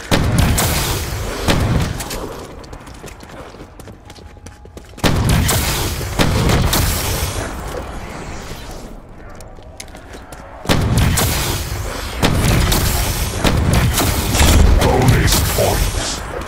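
Gunshots in the video game Dead of the Night: loud, repeated blasts and booming impacts in several bursts over a dense, rumbling game soundscape, with some speech mixed in.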